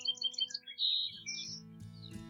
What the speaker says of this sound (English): I heard a bird song.